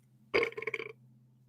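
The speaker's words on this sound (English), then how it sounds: "If you're burping a lot, if you're gassy" A single loud, rumbling burp from an adult breaks out abruptly and gurgles on for about half a second before trailing off into a quiet background hum.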